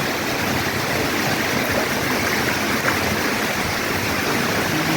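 Loud, steady rush of rainwater pouring down at night in a very heavy downpour, a dense broadband roar like heavy runoff flowing, continuous without pause.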